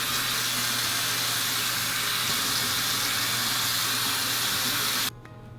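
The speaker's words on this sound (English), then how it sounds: "So I just make sure that I get this all over my face and then I rinse it off." Tap water running steadily into a sink while rinsing face cleanser off, a continuous close hiss and splash that stops abruptly near the end.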